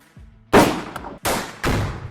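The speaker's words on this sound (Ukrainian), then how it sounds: "Стріляли ми по гранаті з відстані 100 метрів е, з 308 калібру." Three sharp, loud .308 caliber rifle shots fired at a grenade about 100 metres away, each a hard crack with a short echoing tail, spaced roughly half a second apart outdoors.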